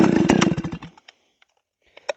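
A Kaiser Stihl 028 AVEQ chainsaw engine running rich, loud and rough for under a second, then dying out into sputters and a couple of faint pops.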